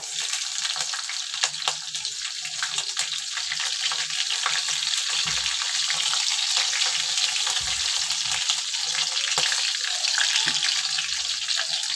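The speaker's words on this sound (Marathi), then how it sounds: "आणि कढीपत्ता सगळं एकत्र टाकायचं आणि फोडणी चांगली भाजून द्यायची" Cumin, green chili, onion and curry leaves sizzle hard in hot oil for a tempering for Konkan-style cabbage bhaji, a loud, steady, crackling fry that runs throughout with no talk.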